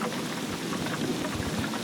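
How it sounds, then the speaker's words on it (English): A storm-at-sea sound effect: dense, steady rain pours over a low rumbling undertone of thunder, continuous and fairly loud with no voices. "Lightning flashed, thunder roared, and the rain began pouring from the sky."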